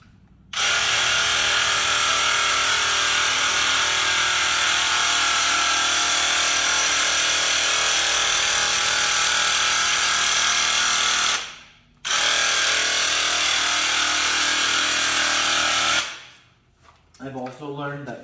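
A Graco paint sprayer applying thick Annie Sloan Wall Paint to walls runs as a loud, continuous buzzing motor drone for long stretches, broken by a short pause and stopping near the end.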